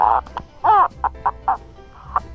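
A cup-and-string noisemaker, with wool rubbed by wet thumb and finger, gives a series of short, loud clucking squawks like a hen, several separate bursts with one longer squeal near the start.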